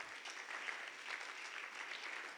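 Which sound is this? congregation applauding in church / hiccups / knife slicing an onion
congregation applauding in church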